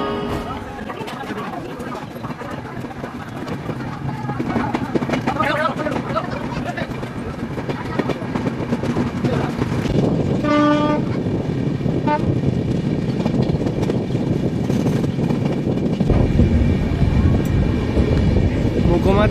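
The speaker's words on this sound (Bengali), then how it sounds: "राज्य रानी एक्सप्रेस जो सहरसा से चलकर पटना तक जाएगी, प्लेटफॉर्म संख्या 3 पर आ रही है" Rajya Rani Express from Saharsa to Patna arriving at platform 3 of an Indian station, with rumbling wheels, a loud horn toot midway and a station announcement voice over the noise.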